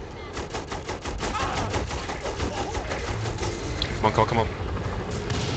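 Rapid gunfire rattles out in Saints Row: The Third as a steady stream of close shots. Someone talks excitedly over the shooting.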